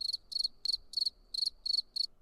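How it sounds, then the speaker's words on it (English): Crickets chirping in steady pulsed bursts, about seven chirps in quick regular rhythm, clear and close over a quiet background. "crickets."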